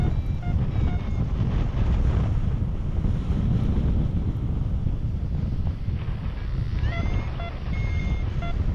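Strong, constant wind roars and buffets across the microphone during a paragliding flight, riding ridge lift along a slope. Faint whistling tones come and go beneath the steady rush.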